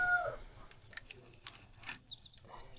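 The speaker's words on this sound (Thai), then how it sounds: "ไก่น้อยเอามาเลี้ยงอยู่นี่" Small young chickens kept by a household cluck and peep in short scattered bursts, fairly close, with a quiet rural background.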